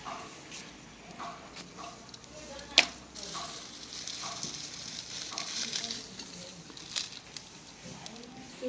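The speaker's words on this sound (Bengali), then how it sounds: "ভাজাটা ধরে নিলাম।" Food sizzles in a pan on a stove, a soft steady hiss with occasional clinks and clatters, while someone talks quietly nearby.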